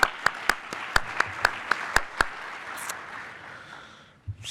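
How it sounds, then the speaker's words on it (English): Applause at a professional association's annual business meeting for a newly elected board, starting with a few sharp, distinct claps in a regular rhythm over a softer crowd patter that fades out after a few seconds. "So we'll give a quick round of applause for them"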